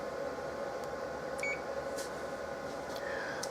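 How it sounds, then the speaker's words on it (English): A Duplo DBM 350 booklet maker gives short electronic buzzer beeps over the steady whir and hum of the running machine. "Buzzer sound should always be on."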